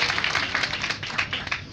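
Audience clapping at a livestock fair prize-giving for cattle and buffalo herders, a short stretch of brisk, fairly close hand claps with an uneven rhythm.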